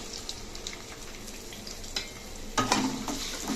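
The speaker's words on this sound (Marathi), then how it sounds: "2 ते 3 चमचे मी तेल टाकलेले आहे आणि त्यामध्ये हे बटाटे घालायचे आहेत बारीक चिरून घेतलेले, आणि त्याच्यामध्ये हे मिरच्या पण टाकते।" Finely chopped potatoes and green chillies fry in a couple of spoons of hot oil, giving a moderate steady sizzle with light stirring scrapes and a louder burst of frying near the end.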